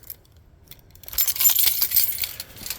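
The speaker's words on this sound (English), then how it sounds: "I lost the keys. I found the keys." Car keys for a turbo 351 project car jingle and clink close by, with a few faint ticks followed by a brighter, rattling jangle of metal that comes in bursts for a couple of seconds.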